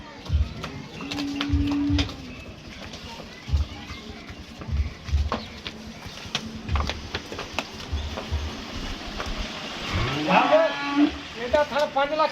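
Pure Nili buffaloes low in several deep, drawn-out moos, some close and others further off, spread across the stretch amid farmyard clatter and people talking nearby.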